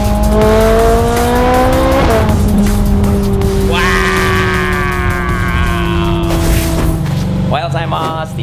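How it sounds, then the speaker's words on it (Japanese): A Ferrari idles and revs while warming up on a Sunday morning, a loud close engine holding steady tones that swell and shift, with a person talking over it. "フェラーリを今、用意、してます。というかエンジン温めてますね"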